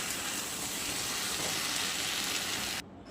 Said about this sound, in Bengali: চিলি চিকেনগুলো দিয়ে দিলাম। এবার একটু কষবো